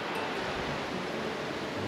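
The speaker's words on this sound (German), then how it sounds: "Hier mit Plätschern." Water splashing and rushing beside the Levada Nova trail on Madeira, a steady, dense hiss of flowing water that fills the whole moment without pause or voices.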